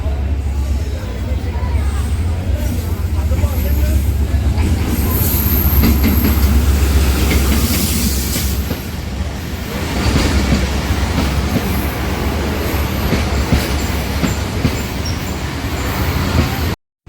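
At Okara railway station, the Green Line Express overtakes the Allama Iqbal Express, led by ZQ30 locomotive 6314, making a loud, continuous roar of rolling carriages with rattling wheel clatter that holds steady before cutting off abruptly.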